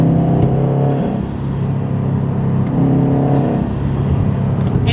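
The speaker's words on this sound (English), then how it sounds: "you got the Subaru rumble, and then you got the turbo as well" Flat-four rumble from a new Subaru WRX with its turbo whirring while driving, a loud continuous engine drone that rises and dips as the throttle changes, heard close with no speech.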